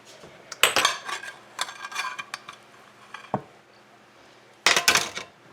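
Mashed potatoes scooped onto a plate for a roast beef dinner with Yorkshire pudding and gravy, bringing bursts of spoon scraping and clinking against crockery, a single sharp knock, then a final loud scrape, close by.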